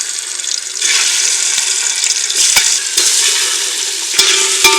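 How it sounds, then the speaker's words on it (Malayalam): Eggs go one by one into hot oil seasoned with chili, garam masala and salt for egg biryani, setting off a loud, close, bubbling sizzle that swells and holds, broken by a few sharp clicks. "നമുക്കിനി നമ്മുടെ മുട്ട ഓരോന്നായിട്ടൊന്ന് ജസ്റ്റ് ഒന്ന് ഫ്രൈ ചെയ്തെടുക്കാം"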